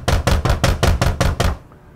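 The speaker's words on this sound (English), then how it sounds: "she heard a knock on the door" Seven firm knocks on a door in a quick, even series, close and loud, then silence.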